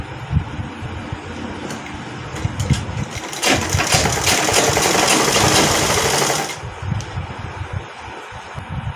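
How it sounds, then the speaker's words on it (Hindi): A sewing machine stitches a sleeve seam on a garment, a rapid, close mechanical whirr running for about three seconds, with handling clicks and rustling before and after. "इस तरफ बाजू में हमने सिलाई लगा देनी है"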